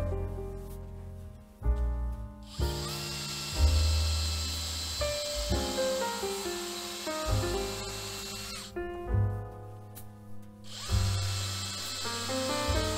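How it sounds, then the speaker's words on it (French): Power drill pre-drilling two holes in a thick wooden batten for a cat tree, with repeated whining bursts of the motor rising and falling through the wood, close and loud, separated by short pauses. "Je préperce le tasseau à deux endroits, puis je le visse à la planche par le dessous avec deux longues vis."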